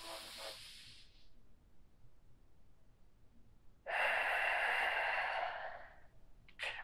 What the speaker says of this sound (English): Last full deep breath here.